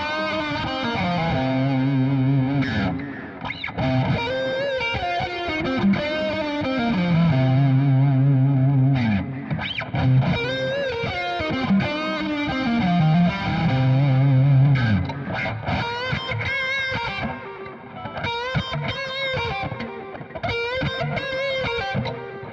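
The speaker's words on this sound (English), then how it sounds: "let's try some kind of modern bluesy lead lines, I guess, using the same 3 pickup selections in order, and we'll hear what effect the selection has on our tone" Aria Pro II 212-MK2 electric guitar playing modern bluesy lead lines with a distorted, effects-heavy tone, sustained bends and quick phrases running continuously and loud, with no voices.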